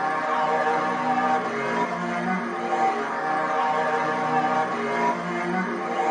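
A melodic music sample for a beat plays pitched down ten semitones and run through RC20, flanger and reverb, producing sustained, warbling, smeared harmonic tones that hold steady at moderate level without any voice.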